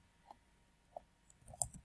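Computer mouse clicks on a website login button: three faint, sharp clicks spaced apart in a quiet room, the last slightly louder.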